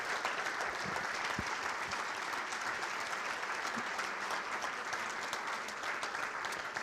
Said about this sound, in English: let's give all those Hall of Fame inductees one final round of applause.